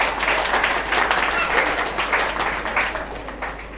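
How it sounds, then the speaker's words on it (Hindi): A seated audience claps together at a spiritual talk in Gwalior, a brisk, steady patter of many hands lasting a few seconds under a faint speaking voice. "ताली बजाओ अपने लिए।"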